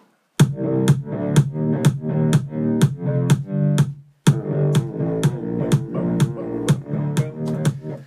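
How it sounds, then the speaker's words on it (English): A gritty bass line distorted by heavy compressor gain pulses alongside a steady punchy kick drum, loud and close, with a brief pause midway. "because we put the gain up so high and the threshold's that low, it gets distorted through the compressor"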